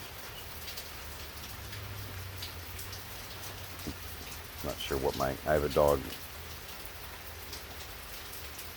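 Steady rain falls outside with a constant soft hiss of drops, while someone speaks briefly over it.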